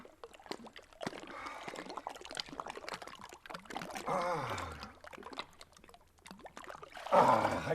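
Water from Econfina Creek washes and trickles against limestone beneath a rock ledge, uneven gurgles and pouring surges close by, growing louder near the end, with no talk.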